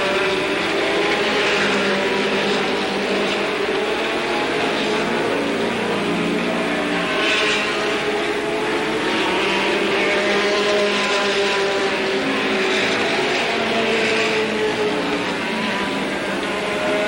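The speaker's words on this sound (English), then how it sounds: "Here comes the 92 car on the outside of the 90 Bloom." Late model stock cars race on a track, their engines producing a continuous, layered roar that swells and fades as cars pass, steady and loud throughout with a faint voice in the mix.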